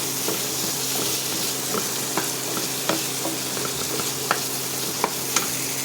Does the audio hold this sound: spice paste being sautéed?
yes